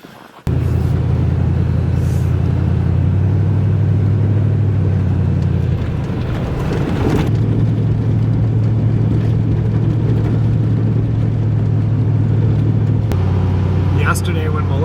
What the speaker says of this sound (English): get in my truck and head for Wisconsin to pick up Melissa